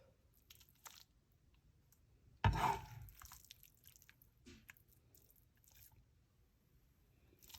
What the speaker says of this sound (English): Now I'm just going to add it to the sauce.